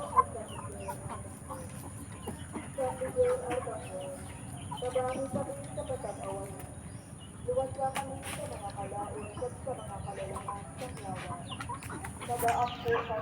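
Backyard chickens on a small farm cluck and murmur softly while feeding, with repeated short clucks over low background noise and a person talking at times.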